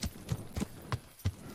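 Horse hooves clip-clopping in the medieval video game Kingdom Come Deliverance, a steady series of five muffled hoofbeats at an even walking rhythm, fairly close, with no talk over them.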